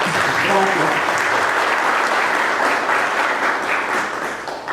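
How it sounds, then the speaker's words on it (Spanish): Sustained applause fills a lecture hall on mining law as an audience welcomes a speaker, a steady dense roar of clapping with a brief voice early on, fading slightly at the end. "quisiera que lo recibamos a nuestro expositor con un fuerte aplauso"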